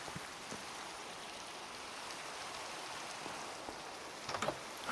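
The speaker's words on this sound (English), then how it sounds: "it's really starting to rain out there" Steady soft rain patters in a blocky survival video game world, a faint continuous hiss of falling drops with no voices, a few slightly louder splashes near the end.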